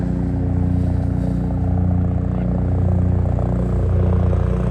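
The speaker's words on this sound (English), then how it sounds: "the Chicago Police Department helicopter came out of nowhere" A loud, steady low rumble with rapid rhythmic beating from a Chicago Police Department helicopter passing low, about 50 to 100 feet, overhead along the frozen Chicago lakefront, filling the whole clip.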